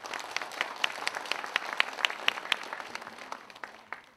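A conference audience at a wealth summit gives warm applause of thanks to the organizers, with sharp individual claps standing out from the dense, fairly close clapping. It swells in the middle, then gradually thins out.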